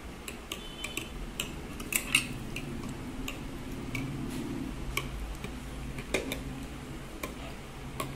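A spoon stirs rose syrup and gulkand into milk in a glass, giving a quick, steady series of light metallic ticks and clinks against the rim over a soft background hum.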